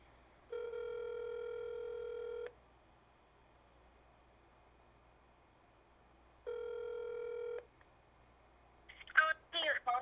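A phone emitting fax-machine-style tones, two sustained electronic beeps about two seconds each separated by quiet, followed by a brief burst of chirping noise at the end.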